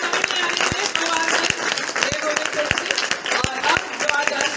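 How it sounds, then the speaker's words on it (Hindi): An audience at a National Voters' Day NCC event at a women's college claps in a dense, lively round of applause, with scattered sharper claps standing out above the steady patter. "एक बार जोरदार तालियों से स्वागत करें"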